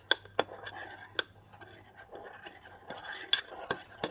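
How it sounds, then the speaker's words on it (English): A spoon stirs a mixture in a bowl, giving a few sharp metallic clinks and soft scraping against the bowl, quiet and close with low background hum. "Gonna stir it up."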